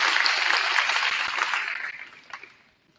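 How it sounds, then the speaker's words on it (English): A round of applause rings out at a sports banquet, a dense wash of many hands clapping that holds steady, then thins and fades to quiet near the end. "I need one more round of applause for everybody that's still hanging around"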